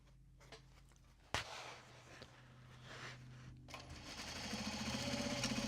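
Sewing machine top stitching Japanese fabric, a steady mechanical whir that starts abruptly after a sharp click and runs on, growing gradually louder toward the end.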